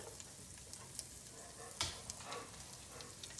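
Flour is stirred into sausage sizzling in a pan for gravy, giving a steady close frying hiss with soft scraping stirs and occasional pops.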